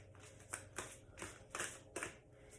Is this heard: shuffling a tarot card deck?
yes